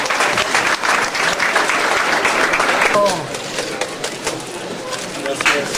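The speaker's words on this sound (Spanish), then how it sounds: "También su reconocimiento y un aplauso" Loud crowd applause at a graduation ceremony in Ayotzinapa, honoring a filmmaker; dense clapping fills the first three seconds, then thins to a softer, steadier patter that continues to the end.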